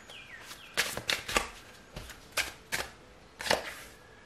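Tarot cards being shuffled and drawn, a run of short crisp riffles and slaps in uneven bursts, close and fairly quiet, with no voices.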